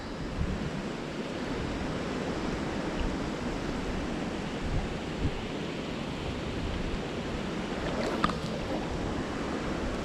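River water rushes steadily around a wading trout angler standing in knee-deep current upstream, a broad, continuous close-up roar with no talk, a faint splash near the end.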